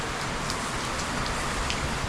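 Steady rain pours down during a typhoon, a dense even hiss of drops striking surfaces close by with no pauses and no voices over it.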